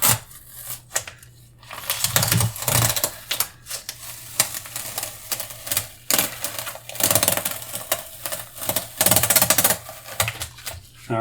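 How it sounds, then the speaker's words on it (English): Masking tape peeled off an abstract painting made with a rubber squeegee, producing a continuous close, crackly ripping texture with uneven bursts and short lulls. "So we're just going to finish peeling this tape off."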